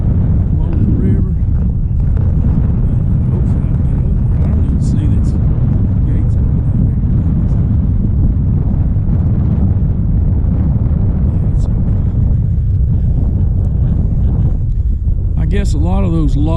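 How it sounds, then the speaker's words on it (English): Strong wind batters the microphone beside a river in a constant loud, low roaring rumble that barely lets up, with a voice faintly speaking near the end. "It's a windy day."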